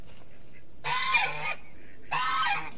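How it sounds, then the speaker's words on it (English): An angry goose honks two loud, harsh blasts close by, each lasting over half a second with a pause between, against quiet outdoor air at a chicken fence. "Sorry about the goose. He's having a temper tantrum over here."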